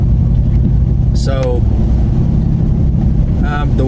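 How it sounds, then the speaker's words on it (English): A Ford F150 with a 5.0 engine running on E85 fuel drives along with a steady low rumble inside the cab, while someone talks over the drone. "the way the truck drives and performs is really nice on E85"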